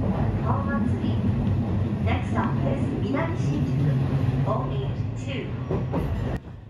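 Low, continuous rumble of a local commuter train rolling along the rails between Shinjuku and Minami-Shinjuku in Tokyo, with faint squeals and clicks over the steady drone.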